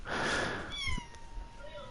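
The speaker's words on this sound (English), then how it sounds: "And now my cat wants to join the broadcast." Pet cat joining a wrestling commentary broadcast, giving a single drawn-out meow close to the microphone that is followed by a faint rising squeak, over soft background noise.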